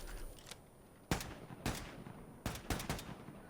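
Gunfire in the Wolfenstein 2 video game: three loud bursts of rapid shots, each a quick cluster of sharp cracks, separated by short pauses over a low ambient bed.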